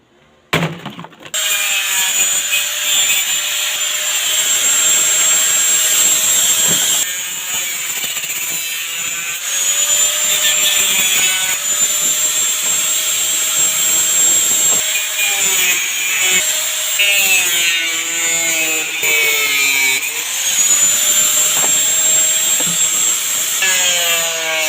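Plastic being cut into pieces with a power tool, a sustained high whine that bites and eases through repeated cuts, close and loud with a sharp knock at the start.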